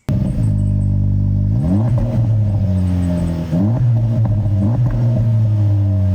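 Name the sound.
Acura Integra Type S triple exhaust engine sound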